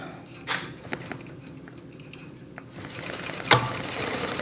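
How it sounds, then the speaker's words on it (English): A sewing machine stitches steadily at close range with a soft rhythmic mechanical clatter and a few louder clicks, and nobody speaks. "you're listening to the sounds and your machine is stitching"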